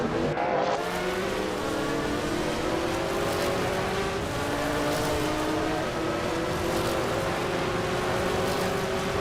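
Group 5 Porsche race car in a racing video game, a continuous high engine whine held at steady revs with a slowly rising pitch, loud and close with no pauses.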